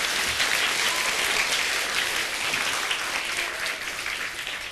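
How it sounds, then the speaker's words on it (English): A large audience applauds loudly and steadily at a live speaking event with Nick Vujicic, a dense wash of clapping that holds nearly constant and tapers slightly toward the end, with no voices over it. "Give him a round of applause, guys."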